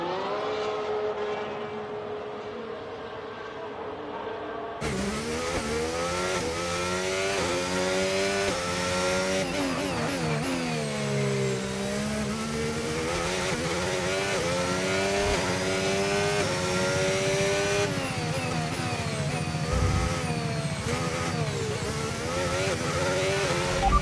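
A Formula 1 car engine in the F1 25 racing game screams continuously at high revs, pitch rising and falling through gear changes, loud and steady with no talk.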